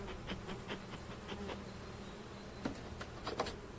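Honeybees buzz around a hive on a mild 15 °C February day while being fed cake, a low continuous drone with occasional closer passes rising briefly in loudness; no voices.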